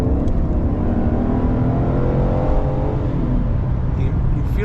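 A 2008 Pontiac G8 GT sedan accelerates hard, its engine note climbing steadily in pitch as it gathers speed, loud and close throughout before easing near the end.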